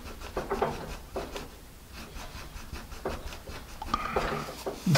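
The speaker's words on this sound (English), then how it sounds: "Let's try our Mars plastic eraser." A Mars plastic eraser rubs pencil marks off paper in short, scratchy bursts of back-and-forth strokes, fairly close and moderately quiet, with pauses between passes.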